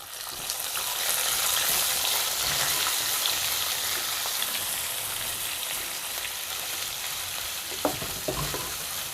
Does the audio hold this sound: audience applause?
no